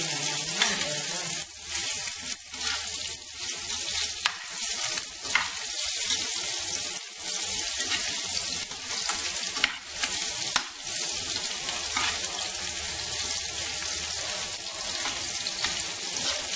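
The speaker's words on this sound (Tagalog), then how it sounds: "Kung mga mahilig sa sili, fry mo yung sili dyan." Chili peppers and onions sizzle steadily in hot oil while cooking beefsteak, with scattered stirring scrapes and clicks running through the frying hiss, with no talking.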